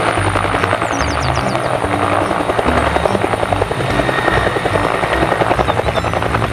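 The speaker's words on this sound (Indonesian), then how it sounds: "Yang ini helikopter." A toy helicopter's whirring rotor chops steadily and continuously for several seconds, loud and close, with a faint buzzing tone over it.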